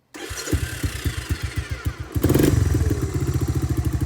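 A 1986 Honda ATC250ES three-wheeler with a Bassani exhaust cranks with a run of rhythmic thumps, then catches and settles into a loud, close, rapid idle.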